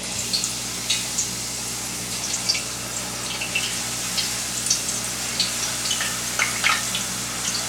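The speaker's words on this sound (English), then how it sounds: "You can hear the sizzle." Potato chip slices frying in hot oil in small batches, a steady crackling sizzle with frequent sharp pops throughout, fairly close and on its own with no voices.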